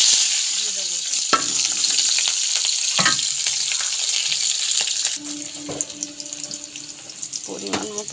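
Chopped onions and green chillies fry with nigella seeds in hot oil, giving a loud steady sizzle with occasional stirring scrapes and light utensil clinks, close up.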